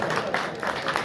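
Applause for Hafiz Kamran Hashar at a gathering, a brief, moderately loud burst of many hands clapping together in a steady crowded patter, slightly distant.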